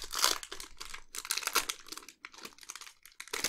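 Yu-Gi-Oh card pack foil wrappers crinkle and tear open close up, with a steady run of crackling rustles and short pauses, and no voices.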